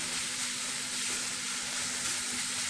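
Chicken frying in a pan over medium-low flame while making chicken samosa filling, a steady close sizzle with a faint hum underneath, no talking.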